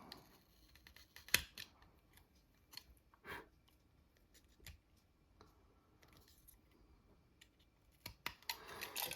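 Scissors trimming leftover moulding plastic from a cheap aftermarket Jaguar key fob, a few quiet, sharp snips and clicks spaced irregularly, close up, with faint handling rustle between them.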